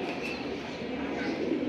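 Khaki military pigeons coo softly at a pet market stall, low murmuring calls under a steady background hum, fairly faint and continuous.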